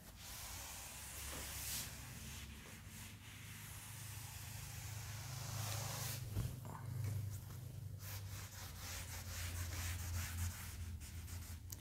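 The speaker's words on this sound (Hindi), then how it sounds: "इसको रब कर लेते हैं पूरा यहाँ तक" Someone rubs writing off a board, making a soft, steady scrubbing hiss that lasts throughout, quiet and close with brief louder swipes.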